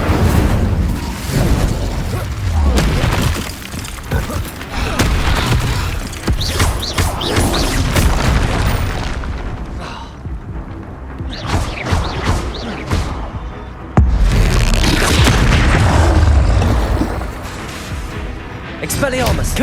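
Spell blasts, explosions and fighting in Hogwarts Legacy, with loud, dense crashes and booms hitting one after another close up, and shouted voices heard through the clash.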